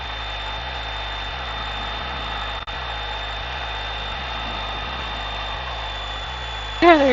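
Light training aircraft engine holding a steady idle-like drone during a pre-flight run-up check, with a pulsing low rumble, one brief dip partway through, and a short louder bump near the end.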